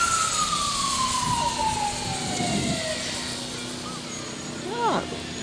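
A fire engine's siren, Engine 21, winds downward in pitch during a 2019 nighttime Parade of Lights, set against crowd murmur while a person talks over it.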